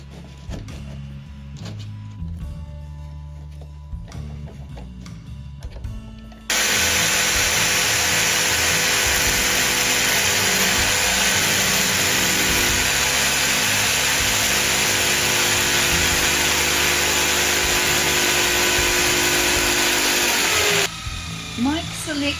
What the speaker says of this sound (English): he drilled a hole through each of the bridges